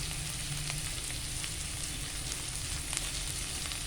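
Catfish sizzling in hot oil in a pan, a steady, bright crackle with small pops over a low hum, close and alone without talk.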